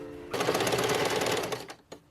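A sewing machine stitches seams on dance-costume shorts with a dense, steady mechanical whir that runs close and loud for about a second and a half, then stops, followed by a short faint tail.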